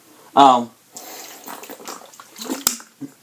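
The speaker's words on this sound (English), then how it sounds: "Getting a sip of water." A person sips water close to the microphone. A brief vocal sound comes first, followed by soft, uneven slurping and swallowing noises with a sharp click near the end.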